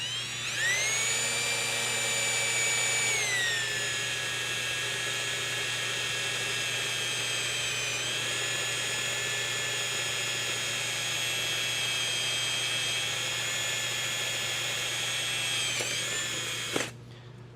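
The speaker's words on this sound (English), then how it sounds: "We just drilled through 4 thicknesses, so it took a little bit longer." A power drill bores through four stacked thicknesses of sheet metal: a loud, steady high-pitched whine that dips in pitch under load, runs continuously for about sixteen seconds, then stops with a brief clunk.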